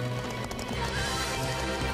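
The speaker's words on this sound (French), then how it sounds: "En avant, au galop!" Cartoon horses galloping, with brisk overlapping clip-clop hoofbeats and a hint of whinnying, loud and close, running steadily throughout under a busy musical backdrop.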